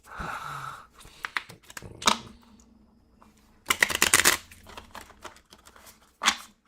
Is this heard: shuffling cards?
yes